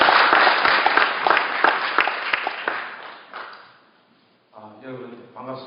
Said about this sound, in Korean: 김 목사님 박수로 환영해 주시죠.